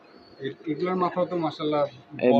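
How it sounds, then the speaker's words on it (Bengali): Female pigeon cooing up close in a short run of low, throaty, rolling coos that rise and fall over a couple of seconds. "এটা আমার মাদি কবুতর"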